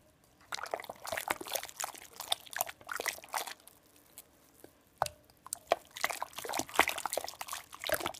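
Irregular clinking and swishing of a utensil stirring strawberry kiwi jello mix into boiling water in a cup, quick and close, with brief pauses between bursts.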